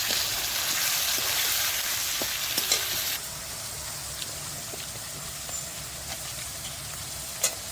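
Onions sizzle steadily in a pan while a spatula stirs them, giving a continuous bright frying hiss with occasional scraping clicks and no talking.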